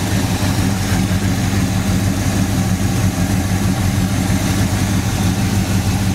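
A 1968 Pontiac GTO's original 400 V8 idles steadily with a deep, continuous low rumble, close and loud, with no voices over it.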